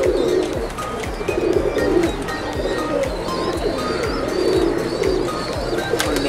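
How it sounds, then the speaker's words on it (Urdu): Pigeons cooing steadily and close, several birds overlapping, with soft chirps and fluttering mixed in over a constant background; fancy pigeons in Sialkot. "کتنے سارے کبوتر ہیں"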